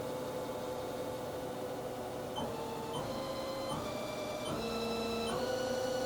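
A Haas SL-10 CNC lathe spindle runs up through rising speeds, a steady mechanical hum with whining tones that step higher in pitch several times, heard close and alone.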